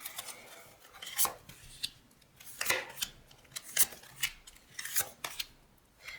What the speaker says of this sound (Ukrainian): виходять ті самі карти